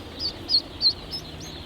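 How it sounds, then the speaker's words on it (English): Day-old baby ducklings peeping in a short series of high, thin chirps, about five quick peeps spaced evenly, faint and close with no talking. "Well, that's our baby ducks."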